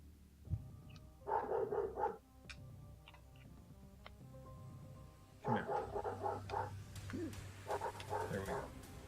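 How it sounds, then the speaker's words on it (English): A dog barking in the background, two bursts of several muffled barks from somewhere off, with quiet room noise and faint other sounds between. "You guys hear the dog barking in the background?"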